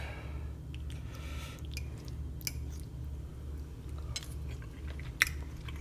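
Someone chews a bite of al dente butterfly pasta with fresh tomatoes, giving soft, close, irregular wet chewing and small crunchy bites over a low background hum, with no talking.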